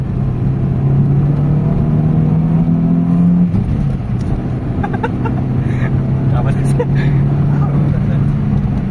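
A Toyota GLI engine with a low-power idle fault is revved to around 6,000 RPM, a loud close drone holding high then dropping, with someone talking over it.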